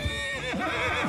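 A horse neighs loudly and close in the medieval battle game Mount and Blade Bannerlord, one long wavering whinny with a second rising call, heard alone without talk.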